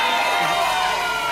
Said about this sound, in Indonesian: Beri tepuk tangan untuk Ruben Onsu.